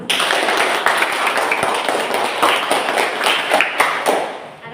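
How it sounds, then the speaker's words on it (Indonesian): Classroom applause from a group of students, a dense steady patter of clapping hands that carries on for several seconds, fairly loud and close. "Oke, tepuk tangan untuk Ocin"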